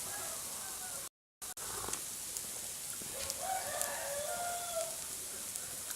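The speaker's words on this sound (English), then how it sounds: "I hear at least 3 other roosters than mine right now." Several roosters crowing around a farmyard, one nearer and others farther off, with calls overlapping against a quiet background and a brief dropout partway through.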